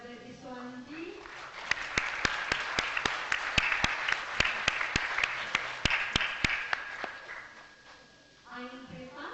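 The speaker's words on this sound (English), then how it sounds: "Please give the last applause for Dr. Iswandi." Seminar audience applauding a speaker, a sustained wash of clapping with sharp individual claps standing out, fading out as voices return at the end.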